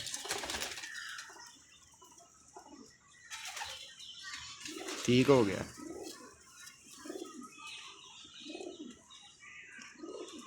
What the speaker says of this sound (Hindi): ये दूसरे कबूतर का भी आप शो कर लें।